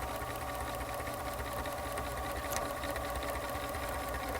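Sewing machine stitching a pin tuck along a previous line of stitching, a continuous fast mechanical whirring hum with steady rhythmic chatter, close and moderately quiet, with no speech.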